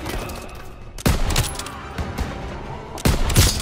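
Machine gun fire in a World War 2 battle game: two loud bursts of rapid shots roughly two seconds apart, with softer scattered gunfire and low battle noise between them.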